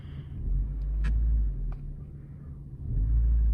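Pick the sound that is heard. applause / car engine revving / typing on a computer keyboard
car engine revving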